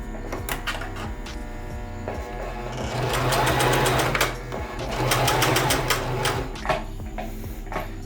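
A sewing machine stitches a T-shirt hem in reverse and then forward, sounding as a close, rapid mechanical chatter that swells in two bursts between lighter ticking stitches, with no talk.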